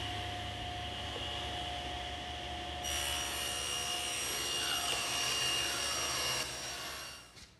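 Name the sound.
table saw ripping a wood strip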